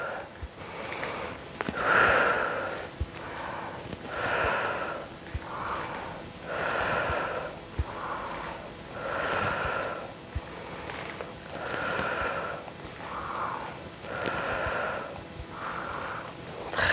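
Slow, deep breaths during a short muscle-strengthening workout: about a dozen rhythmic, close, airy inhales and exhales, evenly spaced and alternating, some with a sniffing edge, with no talking.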